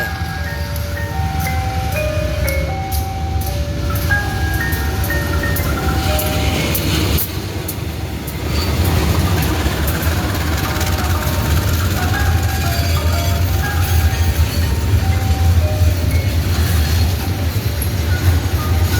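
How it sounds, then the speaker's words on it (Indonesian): Loud rumbling locomotive-hauled tank-car train passing close west of Madiun station, with a melodic chiming tune repeating in the first half and clattering wheels continuing to the end. "ini dia lokomotif yang kita tunggu"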